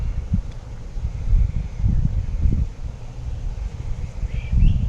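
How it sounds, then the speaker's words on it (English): Gusting breeze rumbles against the microphone in uneven low bursts, rising and falling, with faint birdsong high in the background. "The breeze has kicked up a little bit more."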